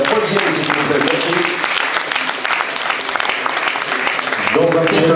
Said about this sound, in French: Beaux applaudissements pour la 1e et la 3e, s'il vous plaît.